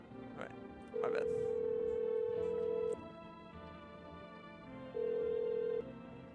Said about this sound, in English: Alright, let's call the neighbor.